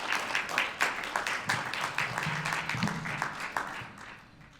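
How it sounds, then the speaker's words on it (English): Dense crowd applause fills a Brockton Board of Health fair and symposium hall, steady rapid clapping from many hands that holds for several seconds before tapering off, with no talk over it. "So let's give Dr. Cahill another hand clap, please."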